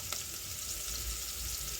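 Scrambled eggs frying with onions in a pan, a steady bright sizzle running continuously and fairly loud, close up, with no voices over it.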